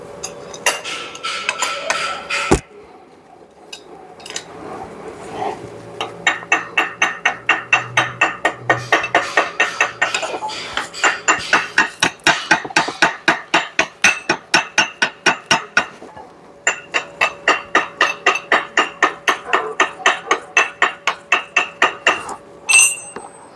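Metal hammer strikes chip welding slag off a Chevrolet NHR axle shaft in a workshop, with loud ringing clinks falling into fast regular bursts of many blows, separated by short pauses.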